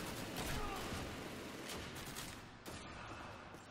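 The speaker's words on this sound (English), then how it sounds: "Thompson, freaking submachine gun" Rapid bursts of Thompson submachine gun fire in Call of Duty 2, loud and dense throughout amid battlefield din, with a sharp extra crack near the end.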